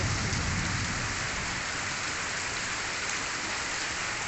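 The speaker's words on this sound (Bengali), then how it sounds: "এত জোরে বৃষ্টি হচ্ছে তোমরা শুনতেই পাচ্ছ আওয়াজটা" A heavy monsoon downpour during a storm pours down outside, a dense, even roar of rain hammering surfaces without pause, loud and close, with no talking.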